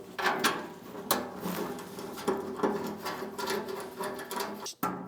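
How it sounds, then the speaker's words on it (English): An Allen wrench tightens a bolt during assembly of a Bacana charcoal grill, giving close, repeated small metallic clicks and scrapes in an irregular rhythm with a sharp knock near the end. "Use our Allen wrench again to lock it down."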